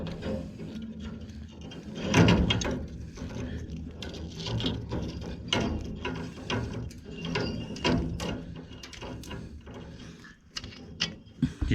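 Chimney brush rods being unscrewed, giving a run of close, crisp ratchet-like clicks and rattles that continue irregularly throughout with no talking.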